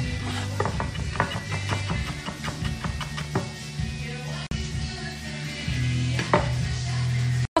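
A knife chops chillies finely on a board in rapid, rhythmic taps, close and crisp, with a brief pause midway before the chopping resumes in a few final strokes.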